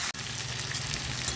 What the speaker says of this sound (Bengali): চিকেনগুলো দিয়ে ভালো করে আমি কষতে থাকবো।